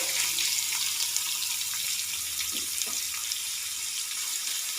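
Two medium onions, thinly sliced, go into a hot pan with garlic and spices for tomato rice, giving a steady, even sizzling hiss that runs throughout with no voices.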